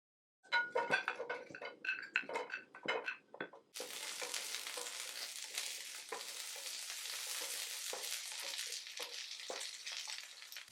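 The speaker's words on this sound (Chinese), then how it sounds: "接下来我先炒一下配菜" Vegetables stir-fried in a hot wok, onions first: a run of sharp metal spatula scrapes and clinks gives way to a steady, loud sizzle of frying, with occasional stirring knocks over the hiss.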